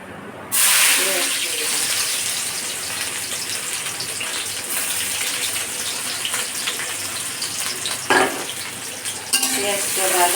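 Onions fry in a pan at home, a continuous sizzle with occasional stirring scrapes and clatters, while a voice talks briefly over the cooking.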